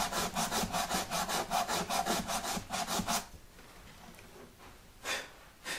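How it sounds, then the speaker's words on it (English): Rapid rhythmic rasping of stiff, finger-backed sandpaper rubbing on the wood of a Martin D-41 guitar neck, about a dozen quick strokes, then quiet with a faint final scrape. "it's just a matter of sanding. I'm using that stiff piece of sandpaper"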